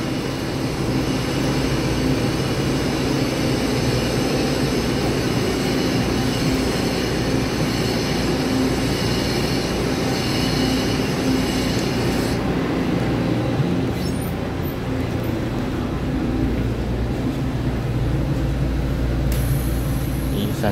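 A Taiwan Tze-Chiang express with PP electric locomotives at each end and twelve PP carriages departs Qidu, producing a loud, continuous rolling rumble and wheel noise that builds and holds close by, with a faint voice in the background.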